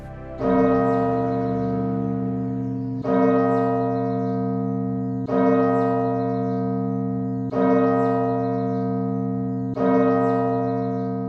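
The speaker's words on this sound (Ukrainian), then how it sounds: "і дзвони в храмі з'явилися" Church bells ring out loud and close, with five strong resonant strikes roughly every two seconds, each leaving a long, rich humming decay that overlaps the next; no voices.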